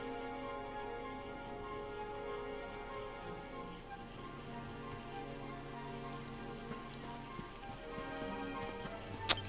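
Rain falling in Dragon Quest XI, a quiet steady patter layered under sustained game music tones, with a brief sharp click near the end.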